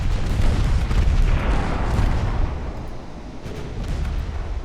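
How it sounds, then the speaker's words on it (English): A torpedo hits the ship Royal Arthur during an Ultimate Admiral Dreadnoughts naval battle set in 1904, a heavy rumbling explosion with scattered gunfire booms that slowly fades into a lower roar. "Torpedo hit on Royal Arthur."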